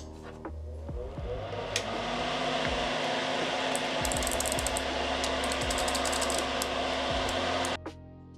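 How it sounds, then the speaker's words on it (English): A fume extractor fan runs with a steady, fairly quiet whir while a Mechwild Clunker keyboard is soldered, with light clicks and taps over the hum before it cuts off near the end. "Pardon the fume extractor."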